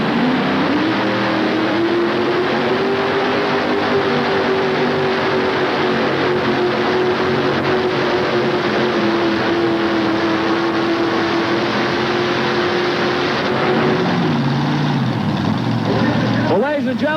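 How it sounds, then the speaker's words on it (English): At a 1988 tractor pull, a tractor with two 482-cubic-inch Chevrolet engines gives a loud, sustained roar holding a steady droning pitch for over a dozen seconds, then drops off near the end as the pull winds down. "2 482 cubic inch Chevrolet motors on board as we get ready to go into 58"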